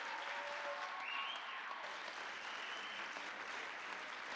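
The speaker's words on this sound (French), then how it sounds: "Je pense qu'on peut les applaudir encore une fois." An audience in a school hall applauds at the local final of a secondary-school talent show in Maniwaki, 2024, with dense, steady clapping that fills the whole clip at an even level.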